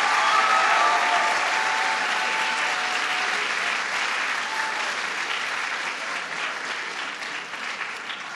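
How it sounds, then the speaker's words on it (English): Sustained applause from a large crowd, dense clapping that slowly eases in volume over several seconds. "Give them a big round of applause"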